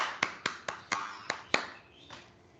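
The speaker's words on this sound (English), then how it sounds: "Please give him a clap." A handful of separate, sharp hand claps in an uneven rhythm during a classroom meeting, each crisp and close, fading out into quiet room tone near the end.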